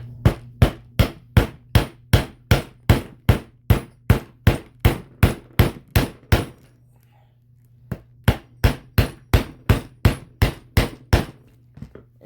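Stitching punch driven by hammer through a leather keychain: a fast, steady run of loud, sharp metallic strikes, a brief pause, then another regular burst of blows, close up and alone.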